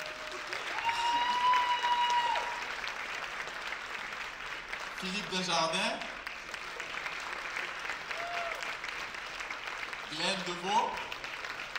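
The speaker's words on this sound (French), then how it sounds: "Vous pouvez applaudir." Audience at a stage show applauds steadily for about twelve seconds, a dense wash of clapping with swells of crowd noise, while an announcer's voice speaks over it.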